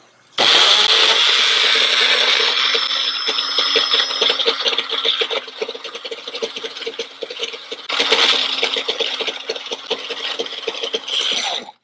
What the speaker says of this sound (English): all I'm going to do is blend it up